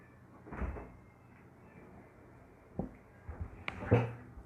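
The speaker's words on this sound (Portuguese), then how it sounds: "Deixa eu fechar a porta" A door being pushed shut indoors: a soft bump first, then a quieter scrape, and finally a cluster of clacks and a thud as it latches, all fairly faint against a quiet room.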